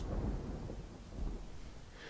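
A low, rolling rumble of thunder with steady rain on a dark night, heavy and continuous through a short stretch with no voices.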